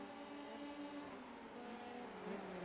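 Open-wheel race cars in a Formula 3 video game at the Spanish Grand Prix, a steady layered engine drone with pitch sweeping downward under braking and then rising as a car pulls past, heard fairly faint and alone.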